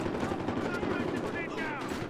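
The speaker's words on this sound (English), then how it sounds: "I'm taking heavy fire!" Dense automatic gunfire in a Battlefield Hardline firefight, a continuous loud rattle of rapid shots filling the whole brief burst, close and unbroken.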